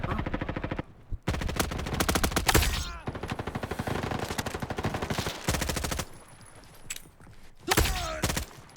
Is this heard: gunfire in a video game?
yes